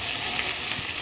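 Green beans sautéing in a hot pan, a loud, dense, continuous sizzle of oil filling the short moment, close up and alone without talking.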